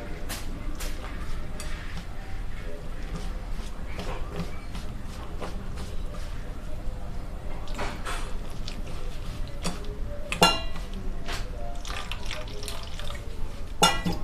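Sesame and rice flour batter stirred with a little water, salt and turmeric in a bowl, giving soft wet sloshing and clinks scattered through steady low kitchen noise.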